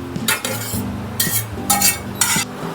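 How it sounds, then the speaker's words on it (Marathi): A metal spoon stirs grated coconut dry-roasting in a pan for homemade Maratha masala, giving a few scraping clinks against the metal at a steady pace, close and clear with no talking. "थोडं हे चांगलं असं ब्राऊन होतपर्यंत भाजून घ्यायचं खोबरं"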